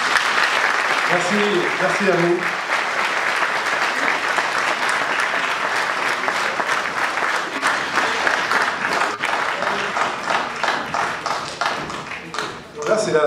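Dense audience applause fills a municipal election campaign meeting for a local list, with steady clapping throughout and a brief spoken thanks over it before it tapers off.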